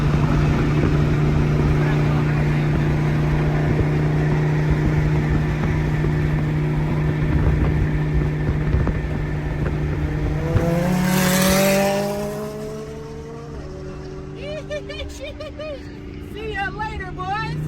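Lamborghini Huracan supercar driving on a public road, a loud, steady engine drone with a strong low rumble that shifts pitch near the end as it eases off, with voices mixed in over the top.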